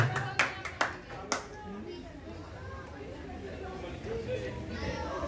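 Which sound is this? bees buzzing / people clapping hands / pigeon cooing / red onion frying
people clapping hands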